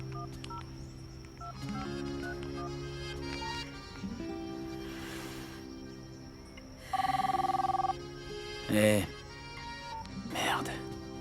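A mobile phone rings with a melodic ringtone amid soft background sounds and quiet movement, with bursts of tones repeating near the end.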